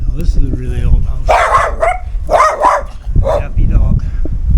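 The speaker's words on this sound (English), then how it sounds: "Happy dog." A dog in a small Colombian mountain town barks and yips in several close, loud bursts, with a person speaking nearby.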